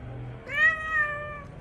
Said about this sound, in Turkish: Bakın kedime.